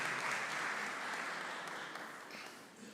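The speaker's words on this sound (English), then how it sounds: "Please give a round of applause for her too." A hall audience applauds Dr. Hema Hari with dense, steady clapping that fills the room, fairly distant and tapering slightly toward the end.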